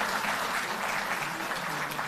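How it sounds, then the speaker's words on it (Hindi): Thunderous applause from a large gathering honoring Delhi Jal Board workers, a dense, continuous roar of clapping with no breaks across the whole stretch. "तालियों की गड़गड़ाहट में वही उत्साह"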